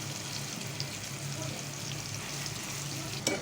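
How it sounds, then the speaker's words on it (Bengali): Pointed gourd (potol) slices frying in a pan, a steady close sizzle of hot oil running throughout, with a brief louder crackle near the end. "এই যে এখন পটল ভাজাগুলো প্রায় হয়ে আসছে"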